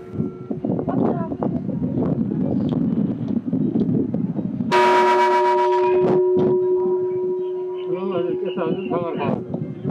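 A temple bell at Pashupatinath in Nepal is struck partway through, ringing loud with a long, sustained metallic tone that slowly decays, after and under a voice talking nearby.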